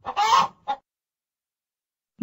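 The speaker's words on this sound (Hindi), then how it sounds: "मुर्गी" A hen clucks in an animal sounds puzzle game, giving one longer squawk and a short second call, close and loud, followed by silence and the start of another call.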